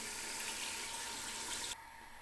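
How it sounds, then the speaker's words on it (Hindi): Water running steadily from a tap into a cooking pot for rice pulao, a continuous broadband splash at even loudness that drops off abruptly near the end, with no voices. "पानी मैंने डाल दिया है इसके अंदर,"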